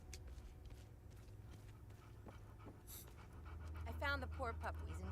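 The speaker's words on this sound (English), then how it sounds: "I found the poor pup." A dog panting in the video game Hell Is Us, quick rhythmic breaths close by, with soft footsteps and game ambience underneath and a player talking over part of it.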